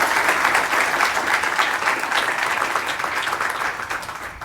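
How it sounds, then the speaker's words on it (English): An audience applauds at a Newsweek conference on the green transition, with steady, dense clapping that carries on for several seconds and fades only slightly toward the end. "A round of applause for Max."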